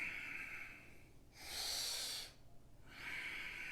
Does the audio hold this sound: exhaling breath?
yes